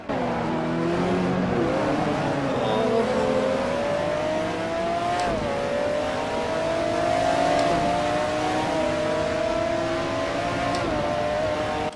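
A McLaren F1 GTR racing engine in Assetto Corsa at the Nürburgring Nordschleife revs continuously at high pitch, rising and falling with gear changes, with occasional sharp crackles and pops from the exhaust.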